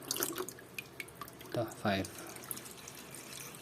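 Water pours and drips into a container for watering seedlings at a sowing setup, with a couple of brief splashy bursts among small drips while a person speaks briefly.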